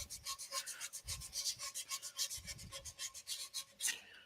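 Sandpaper rubbed back and forth by hand over a turned wooden ladle chuck on a stopped lathe, a steady rhythmic rasping of even strokes, close and fairly loud, with no talk.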